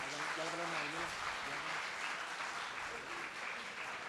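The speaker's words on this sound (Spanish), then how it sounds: "un aplauso muy grande por favor para Daniela Michel y Alexander Payne" An audience applauds for guests at a film festival master class, a steady wash of clapping with a voice briefly speaking over it at the start.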